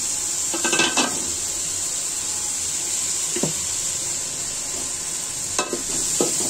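Red lentil dal with cumin and turmeric being stirred in a hot pan, giving a steady sizzling hiss broken by a few brief utensil scrapes and knocks against the pan.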